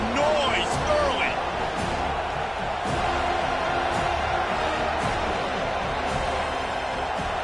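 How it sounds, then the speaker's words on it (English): A live college football stadium crowd keeps up a broad, steady roar, with a commentator talking over it and a few sharper thuds and whoops rising from the noise. "This crowd bringing the energy and noise early."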